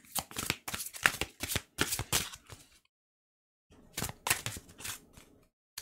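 Oracle cards from a medicine-trees deck being shuffled in a rapid run of crisp riffling flicks, pausing briefly before a second close, clear burst of shuffling.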